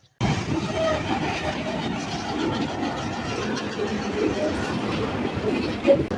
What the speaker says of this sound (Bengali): তো চলে আসলো কিন্তু আমাদের জার্নির লোকাল শাটেল ট্রেন